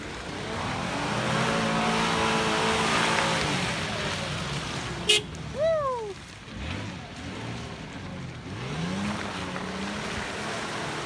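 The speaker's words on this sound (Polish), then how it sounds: "Teraz pokażę fragment z Nissanem Terano który no niby miał opony typu AT, ale nie był kompletnie w stanie wyjechać z tych kolejn" A Nissan Terrano on all-terrain tyres, stuck in muddy ruts, revs hard with a strained, droning engine, then eases off into a few rising and falling revs.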